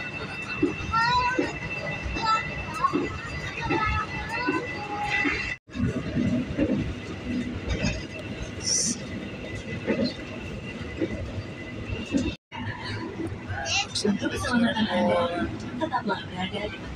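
Inside the Taksaka executive class train in Indonesia as it runs, a constant rumble of wheels and carriage noise with faint squeals, while people talk over it throughout and the sound briefly cuts out twice.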